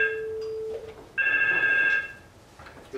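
A telephone rings during a radio interview broadcast, giving two loud electronic bursts with a short gap between them and no talk over them.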